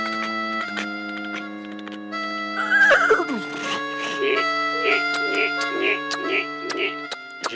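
A whinny rises over a steady musical tone on a live radio improv show, followed by a series of regular, evenly spaced knocks imitating a horse's approaching hoofbeats.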